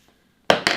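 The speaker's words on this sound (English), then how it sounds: "Let's actually cut this out from the corner and give a little shape to this cactus." Two quick, crisp snips of scissors cutting a cactus shape out of fabric, one right after the other and close by, following a near-silent moment.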